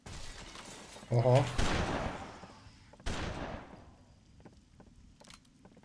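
Gunfire in the video game BloodRayne: Terminal Cut: two sharp, loud shots roughly two seconds apart, each trailing off in an echoing decay over quieter game ambience.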